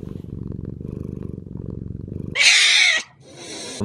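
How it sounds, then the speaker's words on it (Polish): A cat purrs in a close, steady rhythmic rumble for a couple of seconds, then loud hissing bursts of noise cut in. "Ale kot."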